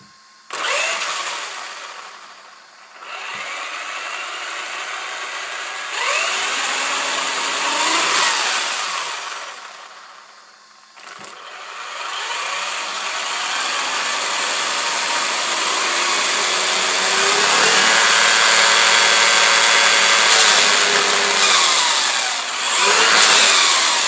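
A Traxxas Velineon VXL-3s brushless RC car motor whines loudly in uneven bursts, cutting out and surging again. Shrill, rising pitch sweeps build toward a sustained, juddering burnout.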